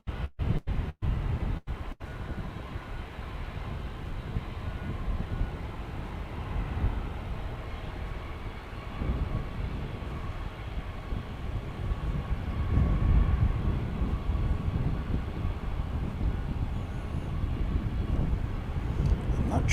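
Airliner engines roaring steadily at DFW Airport, a sustained loud rumbling jet noise that swells and holds for the full stretch, with a few sharp clicks at the very start.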